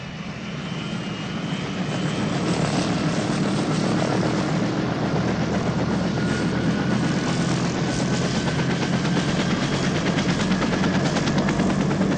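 A steady, loud helicopter rotor and engine drone, building in the first two seconds and then holding close and constant with no voices.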